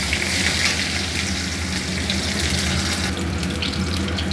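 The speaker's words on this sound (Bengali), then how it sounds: "এবার আমি প্রথমে করলাটা ভেজে নেব" Bitter gourd frying in hot oil in a wok, a continuous loud crackling sizzle that stays close and steady throughout with no voices.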